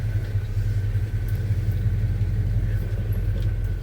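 A 1975 Chevy C10 shop truck engine runs at a steady low idle, a close, even rumble with a constant throb and no talk over it.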